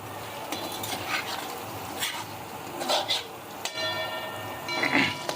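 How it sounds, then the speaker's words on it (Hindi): Chicken brown karahi, Pakistani restaurant style, frying and being stirred over medium heat, with a steady soft sizzle and occasional scraping and clinks of utensils against the pan. "अब इसकी 1 मिनट के लिए भुनाई कर लेंगे हम मीडियम आंच में"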